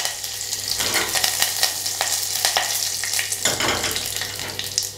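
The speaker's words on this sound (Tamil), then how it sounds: "இப்போ கடுகு வெடிச்சிருச்சு, கருவேப்பிலை" Mustard seeds, curry leaves and a dried red chili sizzle in hot oil while tempering for horse gram rasam, a steady hiss broken by sharp crackles and pops, close and fairly quiet.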